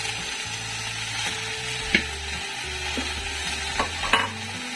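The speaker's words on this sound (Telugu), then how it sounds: "ఇప్పుడు ఫ్రెష్గా కడిగి పెట్టుకున్న పుదీనా ఉంది కదా ప్యాన్లో వేసుకొని పుదీనా మాడిపోకుండా" Fresh washed mint leaves sizzle in a pan while being stirred, a steady bright frying hiss with a few sharp spatula clicks and scrapes, close and fairly loud, with no talk.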